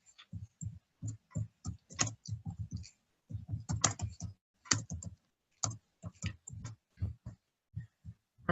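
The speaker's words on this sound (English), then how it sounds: "I'm typing something for you here." Computer keyboard typing during an online English lesson: quick bursts of close, crisp key clicks in irregular clusters with short pauses between, no voices.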